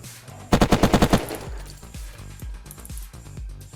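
Gunfire in the survival game Unturned: a loud rapid burst of about seven shots, followed by a string of quieter, evenly spaced single shots with low booming tails.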